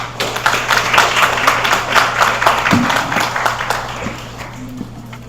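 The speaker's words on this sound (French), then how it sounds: "Je vous prie d'applaudir encore une fois le coordonnateur et fondateur du RENAE" Audience applause fills a hall at a workshop launch event, steady dense clapping at close range that gradually thins out and fades toward the end, with a low steady hum underneath.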